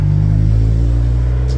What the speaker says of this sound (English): We've got some serious drag cars here as well.